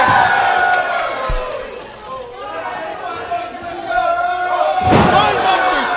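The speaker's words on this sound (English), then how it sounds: "Spinebuster slam on Ace Mayhem." A spinebuster slam in a wrestling ring, a heavy thud on the mat near the end over a constant crowd roar, with a commentator talking throughout.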